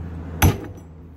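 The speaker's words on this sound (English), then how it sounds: "You can also use a masonry brick set chisel and a hammer to kind of finish it off." A hammer strikes a masonry brick set chisel against brick once, a sharp, loud metallic knock ringing briefly over quiet background hum.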